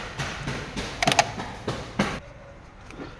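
A plastic coolant reservoir cap on a car engine gives a run of short, sharp clicks and creaks as it is twisted shut and locks, close up and crisp, with quiet gaps between them and no voices.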